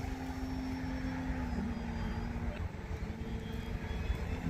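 A radio-controlled FMS Pitts V2 1400mm model biplane flies steadily at a distance, its motor a continuous moderate drone that holds steady throughout.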